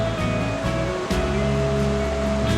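Waterfall in a mountain gorge in Wakayama, Japan, running high with plenty of water, pouring down in a loud, continuous rushing roar, close by and alone.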